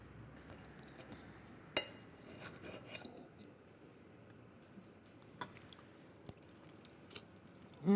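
Faint, close chewing and soft mouth sounds as a shrimp dish with bechamel, lemon and mint is tasted. Occasional small clicks and taps come through the quiet room noise.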